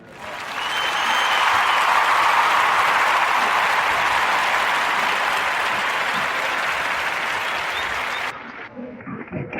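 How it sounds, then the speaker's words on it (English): A podcast audience gives Freddie Figures a warm round of applause: dense, steady clapping that swells quickly, holds for about eight seconds, then cuts off, leaving a little room noise. "So we're going to give a warm Narrative Podcast round of applause for Freddie Figures."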